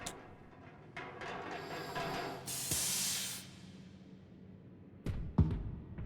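In the Monstrum game a spray bursts out in a loud hissing blast lasting about a second, followed by a fading tail and sharp thuds near the end.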